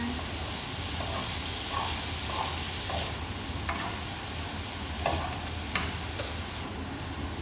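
Beef frying in a pan for Filipino-style spaghetti, stirred now and then, with a constant hissing sizzle and occasional soft scrapes and taps, close and moderate in level.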